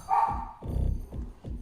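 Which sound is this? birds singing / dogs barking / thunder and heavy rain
dogs barking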